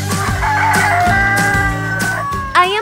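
A Sentul chicken rooster crows loudly and close, holding a long strained call, followed by a brief cluck at the end.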